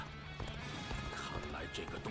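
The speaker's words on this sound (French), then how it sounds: "je peux monter sur mon cheval, c'est vrai" Horse hooves clip-clop in the Dynasty Warriors Origins video game, a quick, steady trotting rhythm heard faintly beneath game sounds.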